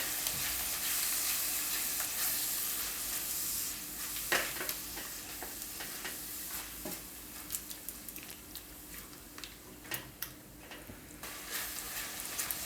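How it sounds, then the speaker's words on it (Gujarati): A spice and yogurt mixture stirred into hot frying oil for a paneer curry, with a continuous close sizzle and irregular scraping and tapping of the spoon against the pan, no talking. "હવે આને આપણે મિક્સ કરી લેવું તેલમાં."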